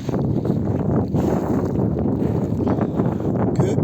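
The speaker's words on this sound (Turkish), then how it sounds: "Rüzgarın sesini engellemek için." Gusty wind at the Karacadağ lava flow buffets the microphone, producing a constant low rumbling roar with uneven bursts throughout.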